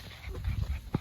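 A puppy makes soft panting and small whimpering sounds close by, with a short sharper yelp near the end, during agility tunnel training.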